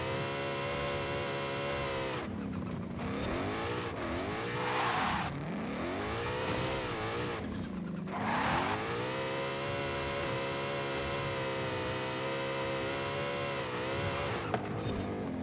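A 1500 hp all-wheel-drive Mustang drifts in Forza Horizon, its engine droning steadily and loudly with tires squealing through long slides, pitch dipping and rising twice as the car shifts between corners.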